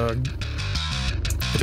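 A gritty, distorted bass guitar plugin plays a short run of low notes for metal, thick and buzzing, with no talking.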